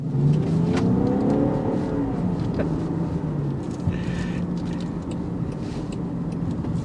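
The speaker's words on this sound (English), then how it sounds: "You're gonna hear that exhaust note just a touch inside." A Land Rover Defender 110 with a turbocharged inline-six runs at a loud, steady drone heard from inside the cabin, its engine note rising and falling as it accelerates, with road noise underneath.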